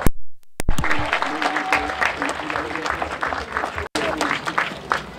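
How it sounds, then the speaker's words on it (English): A crowd at a peace rally claps and cheers in dense, sustained applause after a brief cutoff at the start. Voices call out over it. "So give yourselves a loud round of applause."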